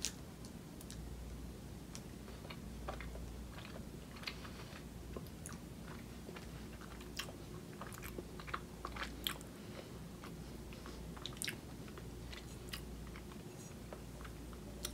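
Crunchy chewing and biting on a Mars Raspberry Smash chocolate bar with caramel and nougat, steady close-up mouth clicks and crunches repeating throughout over a low background hum, no talking.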